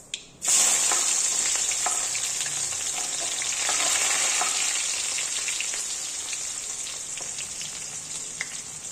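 Onion and cumin seeds hit hot oil in a pan with a sudden burst of sizzling that settles into a steady, close frying hiss, broken by occasional stirring clicks and no talking.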